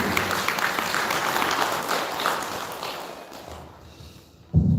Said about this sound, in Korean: 우리 꽃비난에 찬탄의 박수 부탁드립니다.